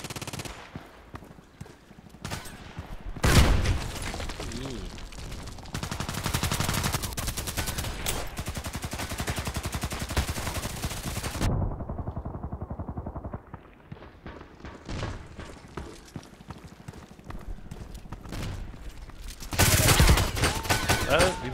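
Gunfire in the shooter video game Contract Wars: loud, dense bursts of rapid shots that come in long stretches, broken by a short quieter gap, then resume with heavy reports near the end.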